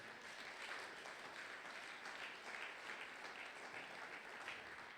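A church congregation at a Sunday praise and thanksgiving service claps in steady, dense applause, a bright sustained patter of many hands that holds evenly throughout, heard from within the room.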